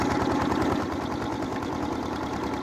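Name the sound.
tractor engine mixing clay for roof tiles and bricks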